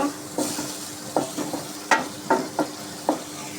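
A spoon stirs salted, seasoned food frying in a pan, with a series of distinct scraping strokes over a constant sizzle, close and fairly loud, and no voices.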